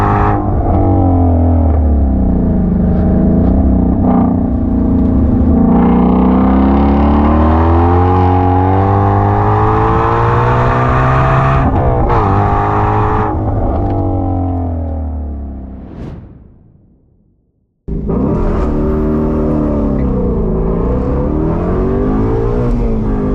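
Shelby sports car accelerating hard on a hill climb course, loud and close, with rising engine pitch through gear changes, a brief cut and fade near the end, then the engine roaring again.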